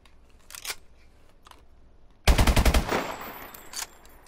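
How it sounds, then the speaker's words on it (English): A rapid burst of light-machine-gun fire in Call of Duty Advanced Warfare, loud and close, followed by fainter mechanical clicks and clatter of an empty LMG reload. "So I'm gonna get an empty reload here."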